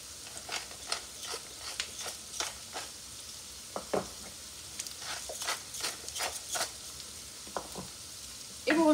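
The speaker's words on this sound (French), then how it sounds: "Vous remuez, vous laissez cuire environ 10 minutes." Squash sizzling softly in a pan on the stove while a utensil scrapes and clacks through it in irregular stirring strokes, close and fairly quiet.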